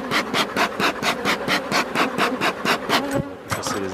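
Honey bees at an opened beehive during a weekly inspection, a dense steady buzz running throughout alongside regular rasping or scraping strokes, likely hive tools working frames, close and fairly loud.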